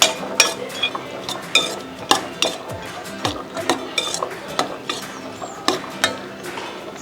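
Chopped onions, two of them cut fairly coarse, are stirred in hot oil for an egg gravy, with a spoon repeatedly scraping and clinking against the pan in an irregular rhythm over a faint sizzle.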